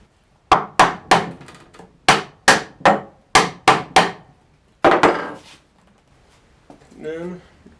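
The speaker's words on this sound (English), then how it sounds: "I'm going to pound it with a hammer." Hammer blows drive a glued wooden tenon into its joint while building a Roman bench: about ten sharp, loud, close strikes in quick uneven groups, then a pause and a faint rustle.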